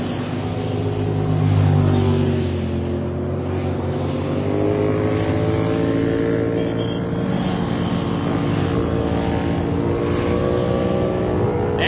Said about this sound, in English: Look at all these ATVs.